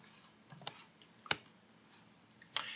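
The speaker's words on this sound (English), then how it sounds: "And then we type in the column," Keys tapped on a computer keyboard, a few scattered soft clicks with one sharper press partway through and a firm final stroke, close and quiet with no voices.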